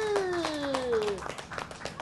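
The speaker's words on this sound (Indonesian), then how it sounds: "tepuk tangan untuk Irfandi" Several hands clap in quick, uneven rhythm to applaud a young child during a behavioral therapy session, close by, while an adult's voice talks over the start.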